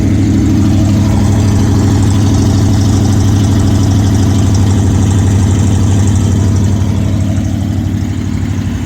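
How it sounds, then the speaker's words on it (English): V8 engine of a Vans van idling at a slightly high speed, a loud, steady low rumble with a faint throb that continues evenly throughout. "Good sounding V8, runs great."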